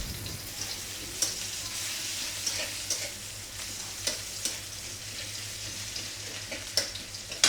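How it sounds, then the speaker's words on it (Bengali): Panch phoron spices, onion and garlic sizzle and crackle in hot oil close by, with steady frying hiss and occasional sharp pops and stirring clicks. "পাঁচফোড়ন আর পেঁয়াজ আর রসুন দিয়ে তেলে দিয়ে দিচ্ছি"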